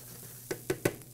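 Rice frying in a pan with pork tenderloin, with a soft steady sizzle and three quick pops or crackles close by.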